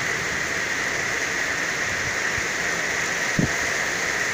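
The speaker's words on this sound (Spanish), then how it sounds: "¿Es granizo?" Hail or torrential rain pours down during a heavy thunderstorm in Madrid, a steady dense hiss of falling water with a single brief knock near the end and no voices.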